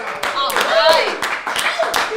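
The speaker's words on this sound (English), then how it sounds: "You can applaud." A few scattered handclaps from a small livestream audience mix with people talking, brief sharp claps spaced irregularly under the chatter rather than sustained applause.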